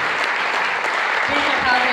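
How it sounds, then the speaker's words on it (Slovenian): Sustained applause from an audience at a Slovenian kayaking federation awards ceremony honouring an Olympic medallist, a dense steady clatter of many hands with faint voices rising beneath it toward the end. "za res še en velik aplavz"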